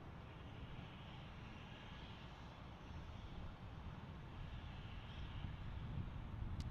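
Steady broadband roar of a Korean Air Boeing 777 jet engine at DFW International Airport, continuous and moderately loud with no breaks, swelling slightly toward the end.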